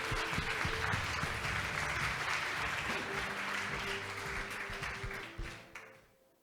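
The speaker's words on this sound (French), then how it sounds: "Applaudissements." Audience applause fills a French retail customer-satisfaction award ceremony, steady dense clapping throughout that fades out near the end.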